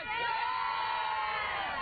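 Crowd cheering and whooping at a Rubber Ducky Derby on the Chicago riverfront, with excited children's shouts mixed in, loud and continuous throughout.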